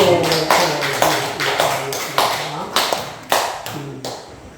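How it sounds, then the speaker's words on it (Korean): Church congregation at a Korean national prayer meeting clapping in short bursts, with loud broadband claps repeating at a brisk, uneven rhythm and a voice sounding faintly underneath. "박수"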